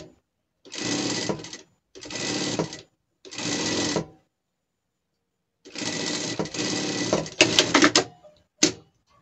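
A sewing machine stitches together a seam joining brown and black fabric in short, loud bursts of rapid whirring. There are three even runs, a pause, then a longer run broken by sharp clicks.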